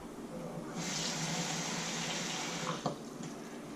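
Steady rush of warm water pours and splashes continuously into cornstarch for several seconds, close by, with a small knock near the end.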